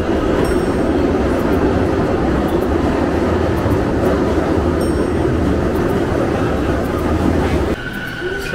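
A Keisei Skyliner train in Tokyo rumbles loudly and steadily, then the noise drops away near the end.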